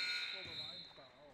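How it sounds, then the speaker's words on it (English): A steady electronic buzzer sounds at the end of a junior varsity girls' high school basketball game in a gym, loud and sustained, with an announcer talking over it. "and there's the buzzer"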